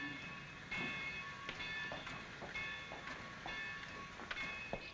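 A train runs along the rails, with a steady rumble and rhythmic clicks from the wheels, moderately close and otherwise without voices.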